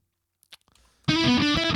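Layered electric guitars with baked-in reverb burst in loud after a second of near silence and a few faint ticks, sustaining a dense, distorted wall of sound that rings through to the end.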